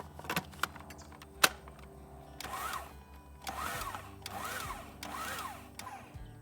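Food processor pulses apple crumble mixture of cold butter and flour in short bursts, four or five whirring surges separated by pauses, after some clattering handling noises at the start.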